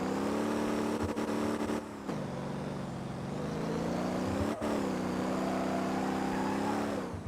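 A car engine in the Motor Town video game revs at full throttle, a loud, sustained harmonic whine that dips and climbs again twice as the revs fall and recover, with no talk.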